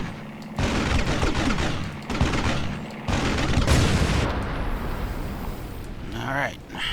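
Bursts of P-40 fighter machine-gun fire in the Aces High 3 flight combat game, several loud rattling volleys separated by short gaps over a constant engine drone, with brief talking near the end.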